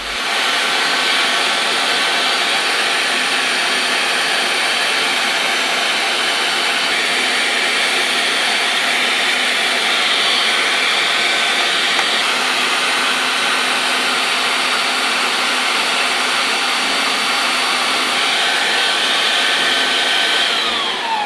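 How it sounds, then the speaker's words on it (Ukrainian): Electric meat grinder runs steadily while minced meat is pushed through to fill edible sausage casing, a loud, close, unbroken motor whine holding level for over twenty seconds with no voices. "Кладемо фаршу м'ясорубку. включаємо і робимо ковбасу."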